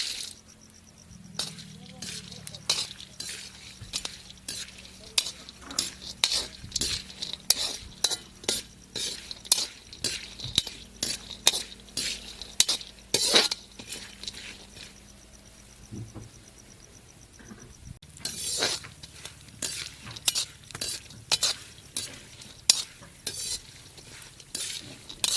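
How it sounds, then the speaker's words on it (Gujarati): Cashews and almonds are fried in a pan in a village kitchen in Gujarat, with a low sizzle throughout. A spoon scrapes and taps at a quick, uneven pace the whole time, and no speech is heard. "કાજુ બદામ તો મળી ગયું છે, તો તળી નાખીએ."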